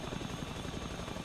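Helicopter in flight in the video game The Front, a continuous low rotor rumble and wash at even level throughout, no voices over it.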